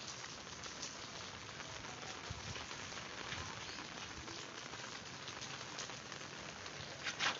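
Heavy monsoon rain falls across Gulzar-e-Hijri in Karachi as a steady, even hiss of patter on surfaces, fairly faint and continuous throughout, with no voices.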